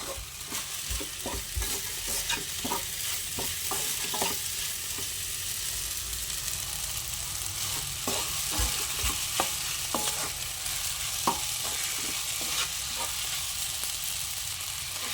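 Cumin, curry leaves, two dried red chillies and salt fry in a pan while being stirred, a steady close sizzle broken by frequent light scraping stir strokes throughout.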